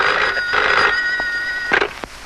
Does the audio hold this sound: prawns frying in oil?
no